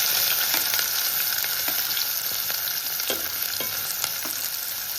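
Onions frying in hot oil in a pan, a steady close hiss of sizzling with faint intermittent clicks of stirring, no talking.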